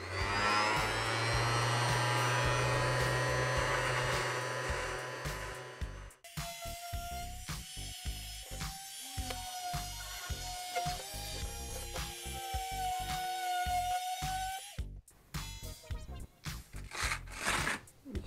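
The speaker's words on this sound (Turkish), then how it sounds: "Şimdi arkadaşlar kısa bir zımparalama denemesi yapacağım." An Einhell TE-OS 1320 orbital sander with 120-grit paper runs with a loud, steady whirring buzz for about six seconds, then stops, leaving quieter scattered clicks and faint tones.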